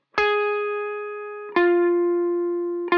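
Electric guitar with effects plays the bridge of a worship song, three sustained, bright notes each struck cleanly and ringing out with a long decay, loud and alone.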